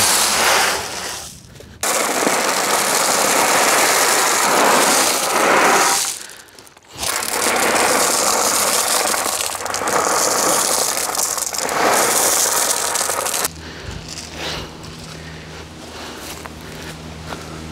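A brush scrubs down a brick pier capping to clear loose bits, giving loud, close, rough scraping in long sustained passes with brief pauses between them, then a quieter stretch of lighter brushing at the end.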